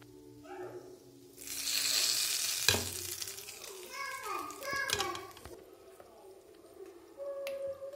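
A spoon stirs peanut and coconut chutney in a hot pan, with scraping and clattering strokes over a soft sizzle, loudest in the middle and tapering off, with a brief sharp tap partway through.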